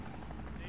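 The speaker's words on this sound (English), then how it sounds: "Plane right over." Aircraft in the Warzone video game roaring overhead as a dense, steady, loud engine drone, with a voice talking over it.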